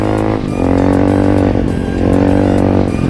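Voge 300 Rally motorcycle engine revs up close, a loud, steady buzzing drone with two or three quick throttle blips shifting the pitch, no talking over it.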